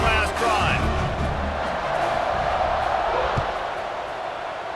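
A stadium crowd roars in EA Sports College Football 26, a steady, dense wash of cheering that carries on throughout while a commentator talks over it.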